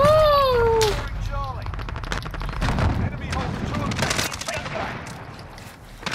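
Gunfire from a SCAR rifle in the Modern Warfare video game, rapid rattling shots running throughout alongside game effects, with someone talking over much of it.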